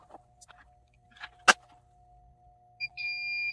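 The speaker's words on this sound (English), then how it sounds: "Now we're going to do the timer." Heat press timer on a sublimation setup for a cotton T-shirt beeps, a steady electronic tone starting near the end after a single sharp tap, with a faint hum running throughout.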